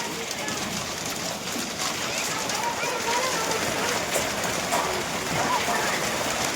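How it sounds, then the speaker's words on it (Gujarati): Heavy rain mixed with falling hail pours down in Rajkot, a steady, dense hiss and patter of strikes that stays loud and unbroken for the whole stretch. "જો ભાઈ રાજકોટમાં ફૂલ જોરદાર વરસાદ હો, બરફ પડે બરફ."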